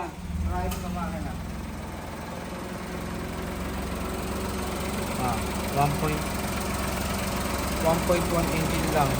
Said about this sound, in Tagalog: bubuksan ko yung makina